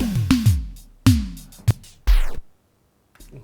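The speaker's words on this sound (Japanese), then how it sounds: "だんだん止まっていくみたいな、テープ" An Arturia Spark drum machine beat runs a few hits, then a tape-stop effect drags the last sound downward in pitch until it cuts to near silence, followed by one faint hit.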